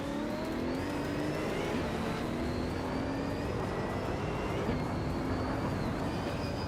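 In a racing video game, a 1995 McLaren F1 GT launches off the start line. Its engine tone climbs steadily, with a couple of quick shifts, at a constant moderate level, and no one speaks.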